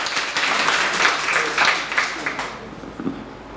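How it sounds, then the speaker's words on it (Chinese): Audience applause fills a talk venue as a speaker sharing about pet rabbits is welcomed, a steady wash of clapping that fades out near the end. "那我们是不是热烈掌声欢迎卢敏他的分享？"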